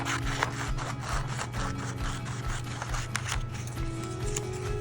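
A paper template for a dragon eye sketch is cut in half, giving a run of soft, repeated rasping snips and crinkles over a steady low tonal hum.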